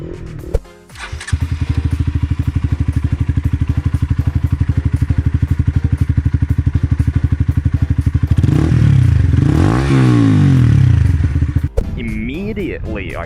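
A second-generation Honda CBR 125R motorcycle with stock engine and aftermarket exhaust idles with a rapid, popping exhaust beat, then revs up loudly and falls back before cutting off abruptly.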